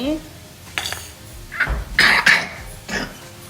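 Chai being stirred in a cup, with a few short spoon scrapes and clinks close by, heard alongside speech.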